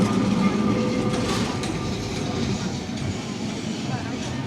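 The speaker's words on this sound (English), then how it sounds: "I love these old trams." An old tram running through the streets of Lisbon, Portugal, gives a steady loud rumble with rail clatter and a faint squeal, continuous throughout, while a voice talks briefly over it.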